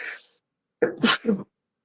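One sharp, close sneeze, a quick inhale followed by an explosive burst, after a brief moment of quiet.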